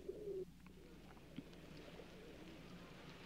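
Decorative pigeons give a brief low coo near the start, then a single faint call, over a quiet, steady background.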